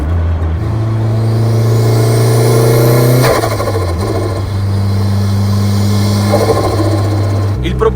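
A Renault Clio 16V with an F7P 16-valve engine converted to turbo, revving under way: a steady droning note climbs, drops sharply at a gear change, then holds even before another shift near the end.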